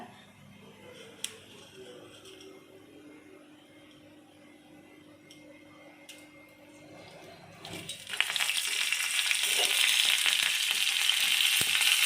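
Cumin and dried red chili hit hot oil while an Odia pakhala thali is being made. After a quiet start with faint kitchen sounds, a loud, steady close-up sizzle bursts in near the end and keeps going.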